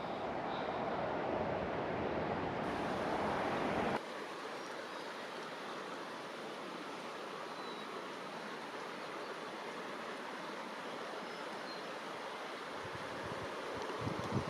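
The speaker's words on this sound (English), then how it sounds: "This is the waterfall we can hear from our campsite." Steady rushing water roars faintly in the distance, a constant broadband hiss from a waterfall near Portage Glacier, Alaska, heard from a campsite, with no voices.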